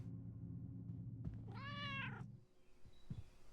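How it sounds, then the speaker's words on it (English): A cat meows once inside a horror video game, a drawn-out harmonic cry that stands clearly above a steady low in-game hum, followed by a couple of soft thuds. "Oh, there's a cat."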